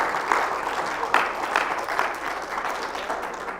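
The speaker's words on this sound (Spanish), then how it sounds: "te doy un aplauso al Señor" A church congregation breaks into sustained applause during a sermon on prayer, a dense and steady wash of many hands clapping that fills the room for several seconds.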